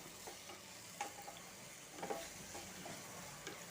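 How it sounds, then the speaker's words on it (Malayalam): Ingredients sautéed in a pan for jowar (sorghum) biryani, with a soft, steady sizzle and occasional scrapes of stirring, quiet and close, with no talking. "നന്നായി ഒന്ന് വഴറ്റിയ ശേഷം നമുക്ക് മസാലക്കൂട്ടുകളൊക്കെ ചേർക്കാം"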